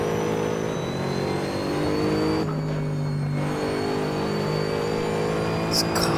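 Mercedes-Benz SLS AMG GT3 race car engine in the Assetto Corsa racing game, a steady loud droning rev with shifting harmonic pitch, dipping briefly mid-clip before climbing again, heard continuously throughout.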